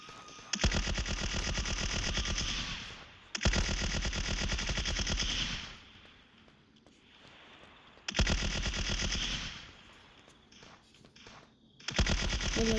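Enemy gunfire in a shooting video game, with long loud bursts of rapid automatic fire separated by short quieter gaps, repeating several times.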